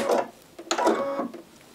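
A sewing machine lowers its mechanism and clips onto the presser foot, giving a couple of short mechanical whirs and a click-like burst, close and fairly loud, with no speech.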